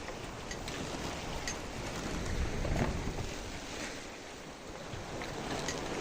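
A sailboat running under poled-out sail in sunny weather, rolling through ocean swell; a steady wash of water and wind noise, with a swell of rushing sound in the middle, no voices.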